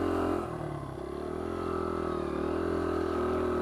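A 2001 Honda XR100 dirt bike engine runs on a woods track, a steady droning motor note that dips slightly early on, then holds a constant loud, close drone throughout with no talk.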